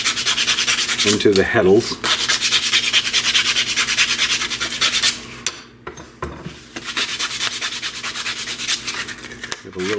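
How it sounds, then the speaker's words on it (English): Cut pieces for a 3D-printed rigid heddle loom are chamfered with steady, close rasping strokes, rhythmic scraping that pauses briefly midway before resuming, with a brief spoken phrase over it. "I'm going to chamfer the ends of these just a little bit so that they insert easier"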